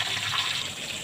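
Water sloshes and splashes as rice and mung dal are rinsed by hand in a pot, a brief, close, continuous watery wash with no talking.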